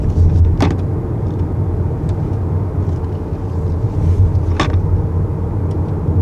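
A 2021 Honda Accord Touring with a 2.0-liter turbo engine drives along, producing a steady low rumble of engine and road noise inside the cabin, with a couple of brief faint clicks and no talking.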